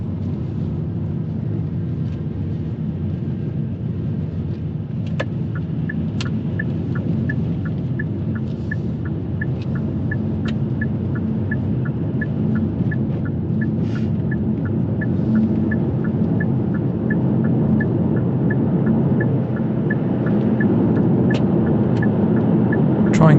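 A car's engine hums and rumbles steadily as it drives round a roundabout on a mock driving test, with a repeated ticking indicator clicking through most of the drive.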